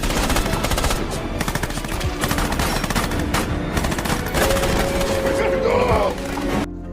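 Rapid, sustained bursts of loud gunfire, like machine guns in battle, rattle continuously with a brief tonal whine near the end.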